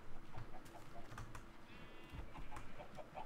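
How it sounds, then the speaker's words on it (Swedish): Chickens cluck softly at a distance in a Swedish-played block-building survival game on a multiplayer server, a faint scattering of clucks over quiet background ambience with no talking. "Här kycklingar."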